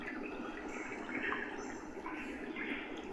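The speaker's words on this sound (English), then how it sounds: "Some birds, a trickling brook." A MOICO white noise machine plays soft trickling brook water with faint bird chirps over a steady ambient hiss, quiet and continuous like a recorded nature soundscape.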